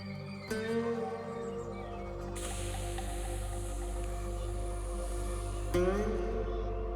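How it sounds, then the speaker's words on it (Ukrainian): A Blitz jet-type gas spray canister pistol fires a sustained hissing stream that starts abruptly, runs for several seconds and cuts off with a faint squeak, alone with no talk. "Зараз у нас струменевий балончик стоїть."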